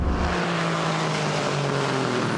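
A supercharged 2-litre race car with a large blower at a hill climb gives a steady, loud engine roar throughout, a dense continuous drone with a low hum underneath and no talk.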